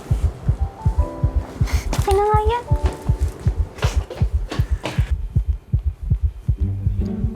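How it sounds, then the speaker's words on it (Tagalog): Steady, loud heartbeat sound effect pulsing in a regular double-thump rhythm through the whole stretch, with voices and a brief musical sting over it. "Is that her heartbeat?"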